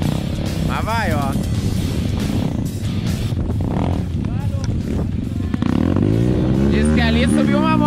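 A dirt motorcycle labours up a steep trail during an off-road trail event, its engine revving hard and loud throughout, with people shouting and talking over it nearby.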